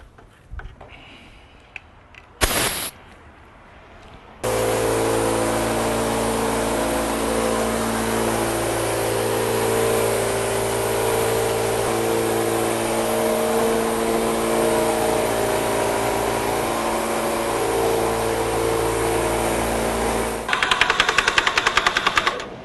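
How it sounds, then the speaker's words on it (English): A cup spray gun hisses steadily, applying metallic bronze coating to a concrete floor, as a loud continuous compressor-driven spray that runs for about sixteen seconds after a few brief bursts and clicks. "So back to a cup gun, and then after this, back to the airless again."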